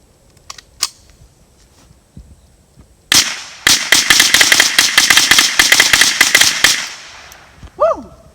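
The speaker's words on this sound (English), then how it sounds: "Let's see if we can take care of it with the Franklin binary trigger." Rapid bursts of sharp .22 shots from a Franklin Armory 10/22 rifle fitted with a binary trigger, a dense string of loud cracks fired outdoors after a few scattered isolated pops.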